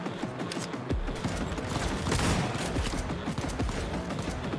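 Shotgun fire in the video game Cyberpunk 2077 booms as a dense, continuous barrage of loud blasts and impacts layered under game sound, with no voice.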